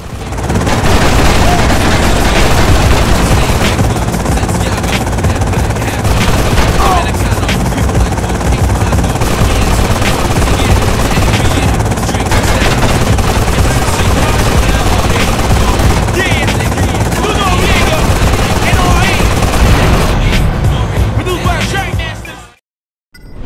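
Loud, continuous helicopter rotor drone in the video game GTA Liberty City Stories, with dense thumping and scattered bursts like gunfire, game-like chaos throughout, cutting off abruptly near the end.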